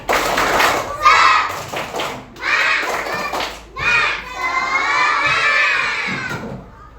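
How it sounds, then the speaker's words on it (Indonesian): A group of children cheering and shouting loudly nearby, with applause thumps. Excited voices rise in several bursts, then merge into one sustained cheer. "Sekali lagi aplaus untuk kita semua ya"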